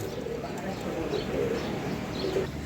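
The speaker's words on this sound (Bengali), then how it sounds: "এখানে দুই পিস কবুতর আছে একসঙ্গে এই কবুতরগুলো দেখেন আপনারা" Soft, low coos from a pair of fancy pigeons repeat a few times over a murmuring background, close by and gentle.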